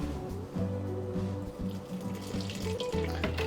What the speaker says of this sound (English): the rest of the water can just go directly in here so that we don't waste any more dishes